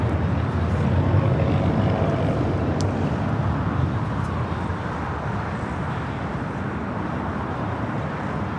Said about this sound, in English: carbon fiber A350 with China Airlines now making its way over to the southeast corner gates of Tom Bradley